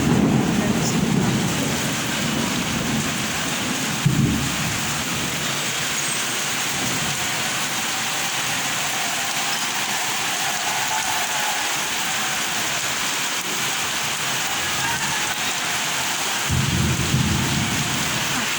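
Steady rain pours down outside across a city, a constant hiss with deep rumbles of thunder near the start and end, and faint street sounds beneath.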